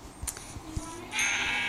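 A sheep in a video game bleats twice, the second call longer and louder, over a soft steady background with faint thumps earlier.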